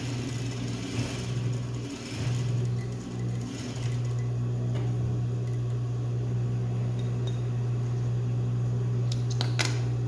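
A domestic sewing machine stitches a blouse shoulder seam and backstitches, a steady close motor hum with a rapid needle rhythm, running continuously with a few brief mechanical clicks near the end and no talking.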